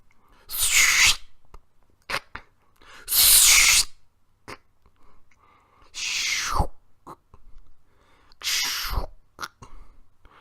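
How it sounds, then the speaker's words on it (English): Sticky tape pulled and torn in several bursts while a poster is taped up on a wall, four loud crackling rips spaced a few seconds apart with quiet handling sounds in between. "And that was the sound of taping up a poster by Doug."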